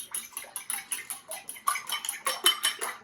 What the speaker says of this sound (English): And I'm going to really want to whisk this.